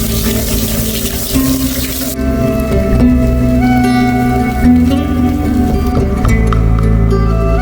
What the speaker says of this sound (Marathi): वरून पूर्ण पाणी पडतं आहे त्याच्यामध्ये आता